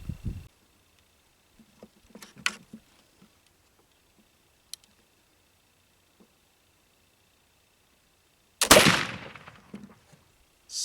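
Homemade black powder made with black walnut charcoal, fired as outdoor gunshots: one loud, sharp report with a long decaying tail, a few faint ticks and knocks before it and a short burst at the start.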